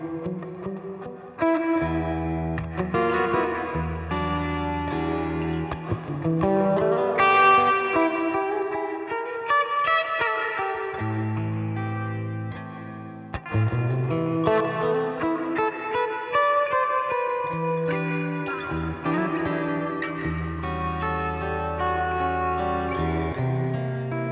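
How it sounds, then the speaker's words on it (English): Electric guitar played through a Roland Blues Cube Hot amp with a big, cavernous reverb, a minor-blues style of chords and melodic runs ringing on steadily for the whole stretch, loud and close with a long wash behind each note. "It's a really, really cool sounding reverb as well."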